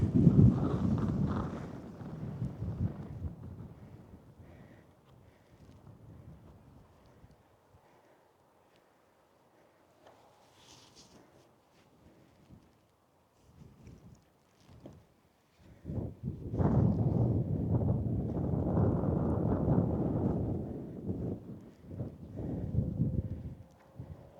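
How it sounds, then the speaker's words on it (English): Gusty wind buffets the microphone in heavy low rumbling waves on top of Battleship Hill near Oban, Scotland, easing off in the middle before roaring back strongly. "top of Battleship Hill. Very windy."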